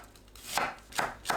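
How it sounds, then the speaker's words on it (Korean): A knife finely slices onion on a cutting board with three crisp, close chops spaced evenly apart over a quiet background. "양파를 곱게 채 썰어주세요."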